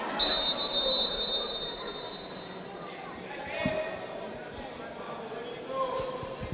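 A sharp, high referee's whistle blasts once at the start of a Serie A futsal match, followed by an echoing arena murmur and a few thuds.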